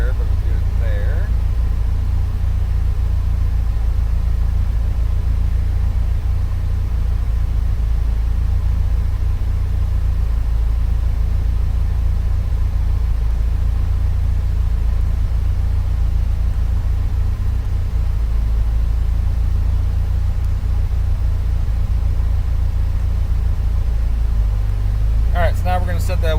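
A built 2.5-litre Subaru Bugeye engine on a Link ECU runs at full throttle under about 14 pounds of boost, a loud, steady, deep roar that holds unbroken for the whole stretch.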